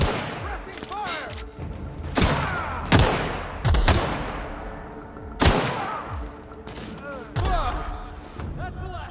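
Heavy video game gunfire in The Outer Worlds, a series of loud booming shots and bursts spaced a second or two apart, each trailing off in a rumble, with faint voices between.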